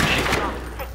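Gunfire in the shooter game SMOD Outbreak, a burst of sharp cracks and thuds clustered at the start, followed by a fading tail and scattered lighter clicks, with a voice talking over it.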